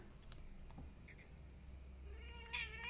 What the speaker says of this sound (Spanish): Tengo un gato en la pantalla.